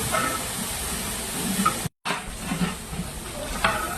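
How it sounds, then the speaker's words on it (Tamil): Chili powder and ginger-garlic paste sautéing in oil for chicken biryani, giving a steady close hiss and sizzle with occasional stirring scrapes and a brief dropout. "அதை போட்டு இப்போ எண்ணெயில் வதக்கணும்"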